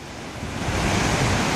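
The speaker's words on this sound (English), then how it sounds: "Look at the waves, they're breaking." Ocean waves break on a beach in a short burst of wash and surf, a broad hiss swelling louder as the wave comes in.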